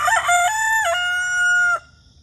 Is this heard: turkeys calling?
yes